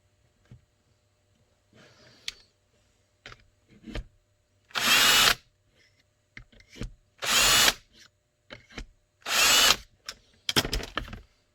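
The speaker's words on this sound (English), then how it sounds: "I'm going to drill this without drilling my hand" A power drill bores holes through holster material for a thigh rig for an FNX-45, three loud close whirring bursts with quieter handling clicks and rustles between them.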